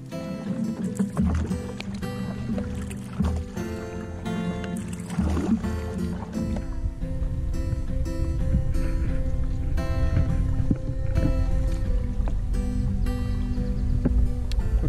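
Canoe paddled across a small lake in Algonquin, with steady, continuous paddling and water movement close by, fairly loud and busy throughout with no talking.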